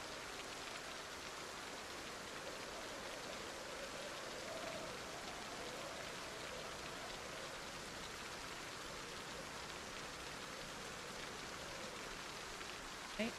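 A continuous, even patter of rain in the Project Zomboid game, set in Muldraugh, runs as a soft, dense hiss throughout, with no voices.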